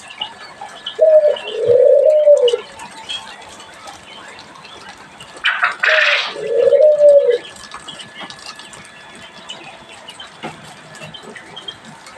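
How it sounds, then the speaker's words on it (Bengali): Quail in a bird keeper's cage give two paired sets of rising, warbling calls, loud and close, with a brief rattle between them and quiet gaps after. "এগুলো আমার 20 ডিমের কোয়েল পাখি।"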